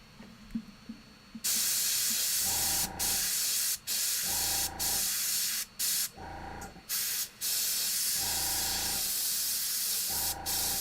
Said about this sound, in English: is a very nice airbrush that is very expensive.